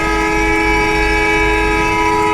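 A loud sustained multi-tone horn blares continuously from a bus in a driving video game set on a road from Dhaka to Cumilla, heard close and alone.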